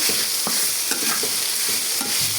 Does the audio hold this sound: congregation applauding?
no